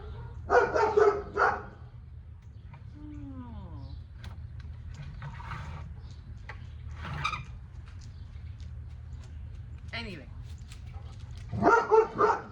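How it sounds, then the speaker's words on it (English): A dog barks at pigeons in loud bursts at the start and end, with quieter barks and a whine between, and a person briefly speaks. "He's just barking at the pigeons."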